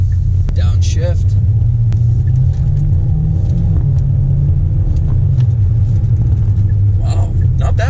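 A Hyundai Elantra engine blipping and revving on a downshift, a low, loud rumble rising briefly and settling back to a steady drone under road noise.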